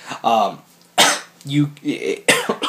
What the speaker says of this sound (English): That's why I kind of have a cough.